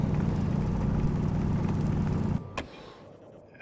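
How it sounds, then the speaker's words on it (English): A slow Mark 1 drill in the game Brutal Venus grinds with a steady, loud low droning hum, then cuts off abruptly, followed by a sharp clank and a quieter fading tail. "this is the drill that you start with, Mark 1 drill. It's slow, it gets the job done"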